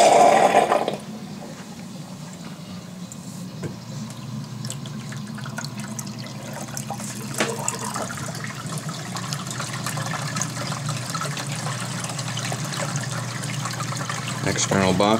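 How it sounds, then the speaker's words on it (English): Water rushes and trickles steadily as a reef aquarium's external overflow box refills before reaching full siphon, a continuous gurgling wash with a louder splash at the start. "External box will slowly fill again to the point where it starts going full siphon, and it'll quiet up on its own."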